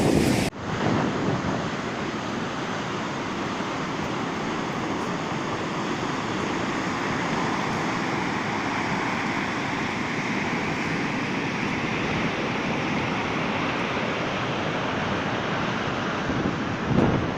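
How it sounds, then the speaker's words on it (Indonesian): Surf at Kasap beach in Pacitan roars as a steady, broad wash of waves, heavily mixed with wind buffeting the microphone throughout, with no voices. "Inilah pantai."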